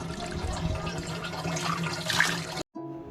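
Clear spring water pours steadily at Tiger Spring in Mahabaleshwar, a continuous close splashing rush for about two and a half seconds before cutting off abruptly, followed by a quieter trickle.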